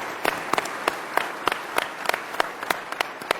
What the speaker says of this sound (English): So if I could just get a round of applause for the civil servants who work so hard every day on your behalf